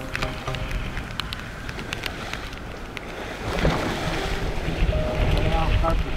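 Strong wind buffets an open-ocean canoe voyage off Lamotrek after rain, gusts roaring across the microphone while high waves slosh and crash around the hull, growing louder and rougher partway through.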